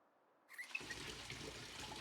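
Water trickles and pours steadily into a container in Project Zomboid, starting abruptly and running on as a close, even splashing stream.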